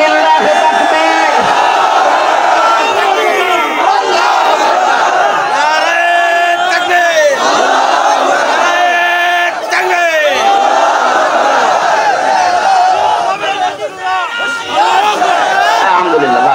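Large crowd at a religious sermon shouting takbir in unison, a loud sustained massed roar of voices rising and falling in repeated waves throughout.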